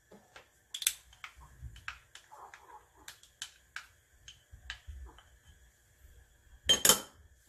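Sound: stirring chicken with chili flakes, pepper and oyster sauce

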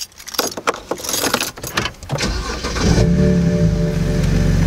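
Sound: BMW 330i car engine starting

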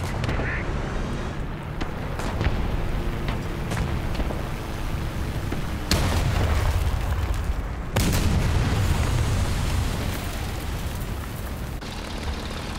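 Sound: tank cannon fire in video game War Thunder

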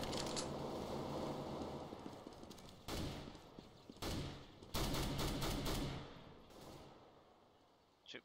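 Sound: automatic weapon gunfire in Counter-Strike: Global Offensive video game

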